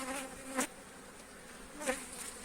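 Honeybees hum softly around an open hive frame with capped brood, a steady, faint drone broken by two brief louder swells.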